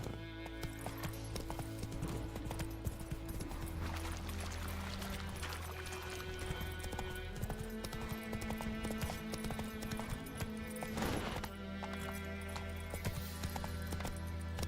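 Horse hooves clip-clop at a steady riding pace in The Witcher 3, a continuous rhythmic beat with an occasional whinny, running under game music and ambience throughout.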